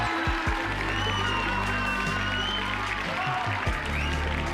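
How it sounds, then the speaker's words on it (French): Steady, dense clapping from a large audience fills the whole stretch, loud and continuous with a few low thumps near the start. "un tonnerre d'applaudissements à toute l'équipe technique"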